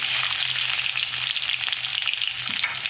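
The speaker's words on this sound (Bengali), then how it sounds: "এইভাবে ভেজে নেবে ভালো করে।" Chopped ginger fries in hot oil in a pan for vegetarian ghugni, giving a dense, steady sizzling hiss up close with faint stirring, and no voices.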